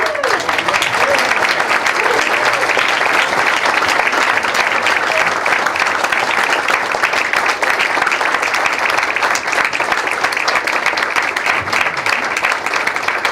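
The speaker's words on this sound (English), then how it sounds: "they clapped longer than I thought" An audience at an astronomy conference awards ceremony applauds new fellows, giving steady, dense clapping that holds at an even level for the whole stretch without fading.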